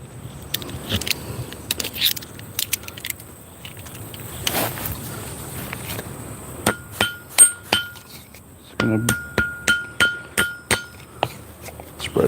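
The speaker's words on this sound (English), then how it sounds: "Just doing a little maintenance on some hammers." Metal hammers clink and ring during maintenance in a knife-forging workshop, scattered taps at first, then a fast series of about ten sharp, close metallic strikes with bright ringing overtones.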